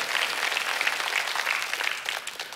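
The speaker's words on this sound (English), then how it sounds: "That's another good time to clap." A congregation claps during a church service after new believers are welcomed, a dense, steady patter of many hands sustained throughout and fairly close.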